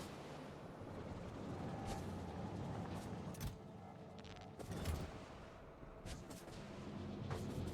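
Turrets firing in the Factorio video game, a dense continuous rumble of rapid distant shots with a few sharper bursts standing out, steady and muffled throughout, no talk.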